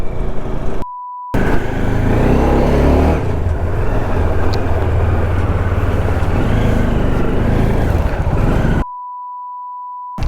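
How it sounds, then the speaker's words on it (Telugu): Cars crawl through a traffic jam at a toll plaza on a highway trip from Nizamabad to Amalapuram, a steady, close low rumble of engines and road noise, with a flat electronic tone at the start and end. "ఫస్ట్ టోల్కి ఎంత ట్రాఫిక్ జామ్ అయిందో."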